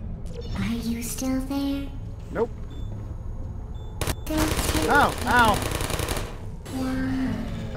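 Bursts of rapid automatic gunfire from the video game Portal hit the player, mixed with electronic game sounds and a synthetic voice. A person speaks over the action at moderate loudness.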